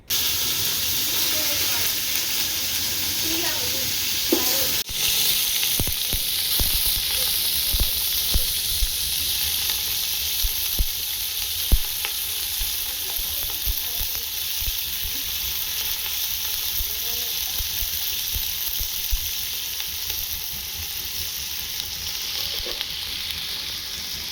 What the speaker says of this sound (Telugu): అదే ఆయిల్లో అయితే ఇప్పుడు చికెన్ని ఫ్రై చేసుకోవాలి